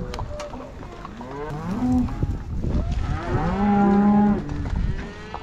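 Cattle being driven toward a corral moo in two long, drawn-out calls, close and loud, with softer lowing and movement noise between them.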